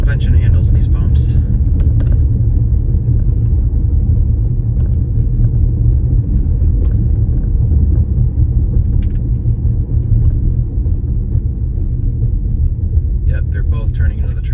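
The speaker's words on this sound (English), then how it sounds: "Let's see how the suspension handles these bumps." Low, continuous road rumble inside a 2026 Chevrolet Equinox LT crossover as it drives over a rough, bumpy section of road, with faint knocks from the suspension. Someone speaks briefly near the start.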